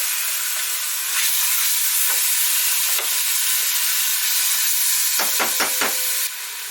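Spice mix and seeds frying in hot oil for an ox cheek curry, a steady broadband sizzle and hiss throughout with a short run of quick pops near the end, no talking.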